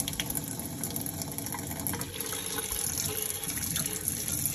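Hot water runs from a tap after a Heatline condensing boiler fault is fixed, a steady continuous gush and splash heard close up and alone.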